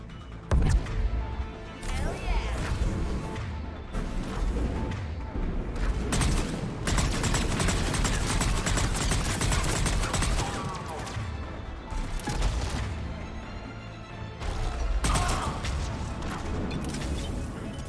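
Gunfire from an enemy turret in the Mass Effect 3 video game rattles in dense, sustained bursts with loud crashes and impacts, nearly continuous across the stretch with brief dips, and a voice speaks over it.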